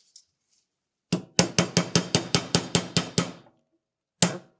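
Hammer tapping a pin out of a Tokarev pistol, a quick run of about eleven sharp metallic strikes in an even rhythm, then a pause and one final knock, close and clear with no talking.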